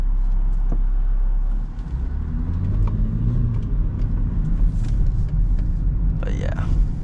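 A 2011 BMW X3 SUV cruises along a road with snow still on the ground, its engine and tyre rumble a steady low drone inside the cabin, while a person talks over it.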